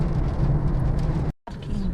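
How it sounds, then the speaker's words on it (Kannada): Steady rain hisses down at a rain-soaked market during festival shopping, a dense, fairly loud wash with a brief cutout before the downpour resumes; no distinct thunder clap stands out. "ಅದ್ರ ಜೊತೆಗೆ ಮಳೆ ಬೇರೆ ಬರ್ತಾ ಇದೆ"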